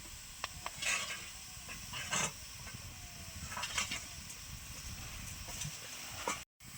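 Tomatoes stirred in a pan while cooking down without water for homemade sauce, with soft scraping strokes and light sizzling over a steady hiss, fairly faint and close, no talking.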